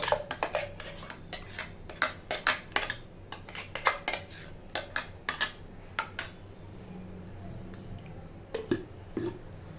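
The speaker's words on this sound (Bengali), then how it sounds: "এটা একটা বাটিতে ঢেলে নেব।" Ground stuffing mixture for bharwa kakrol is scraped and poured from a grinder into a bowl, giving a quick run of sharp metallic clinks and scrapes, close and fairly loud, with short pauses between bursts and no talking.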